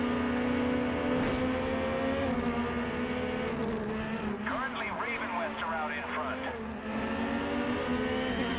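Race cars in the GRID video game roar along at speed with sustained high engine drone and shifting revs, a few tire squeals midway, loud and continuous under someone talking.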